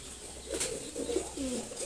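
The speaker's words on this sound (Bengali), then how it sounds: "খুবই সুন্দর একটা রেসার কবুতর" A racing pigeon raised at home coos softly in a few low, rolling phrases, quiet and close with faint background noise and no talk.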